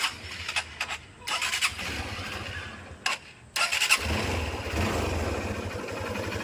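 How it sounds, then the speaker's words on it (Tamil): A Hero Honda CBZ Xtreme motorcycle engine, after cylinder and valve kit work, cranks in short bursts, sputters, then catches and settles into a steady close idle with a rumbling beat. "இன்ஜினோட பீட் எப்படி இருக்குன்னு பாருங்கள்."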